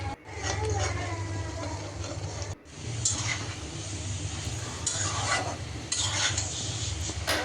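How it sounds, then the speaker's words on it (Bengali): Spice paste being sautéed and stirred in a pan for a rui fish curry with cauliflower, potato and beans, a continuous scraping, rubbing stir with brief pauses over a low hum. "ওটার জন্য আমি মশলা দিয়ে এখন মশলাটা কষিয়ে নিচ্ছি"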